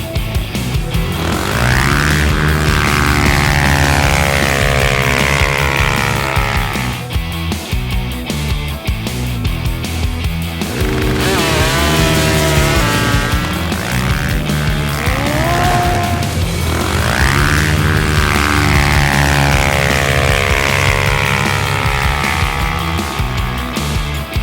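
A Polaris XP1000 UTV engine roars on the Oregon DuneFest drag strip, loud and close, with the revs rising and falling through repeated gear changes in a sustained, aggressive run.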